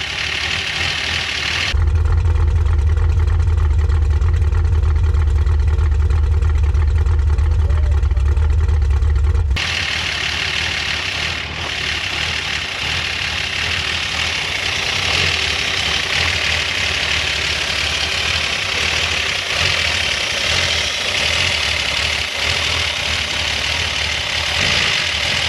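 Old Plymouth Duster engine, revived after 26 years, idling steadily and loudly up close, with a brief louder rumbling stretch near the start before settling into a continuous even run.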